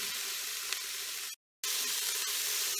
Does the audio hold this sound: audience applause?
no